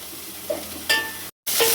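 Onions fry in a pan for tomato rasam: a brief soft sizzle with a couple of stirring scrapes, broken by a short cut-out of silence before the frying resumes.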